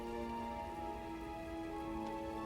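Steady rain falling in the video game Batman: Arkham Asylum, a constant dense hiss on surfaces with tonal ambient music running underneath, no voices.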